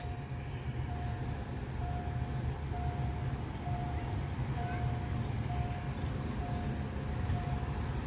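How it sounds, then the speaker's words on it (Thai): A steady low rumble of a freight train draws near, with a crossing bell dinging at a regular pace over the continuous roar. "เสียงรถไฟกำลังดังมาแล้ว"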